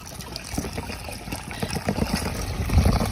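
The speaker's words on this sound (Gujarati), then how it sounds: "આટલું પાણી વેળીએ છીએ." Water pours into a farm pesticide sprayer pump tank after powder is added, a steady close gurgling trickle with low splashing that grows slightly fuller toward the end, heard outdoors in a maize field.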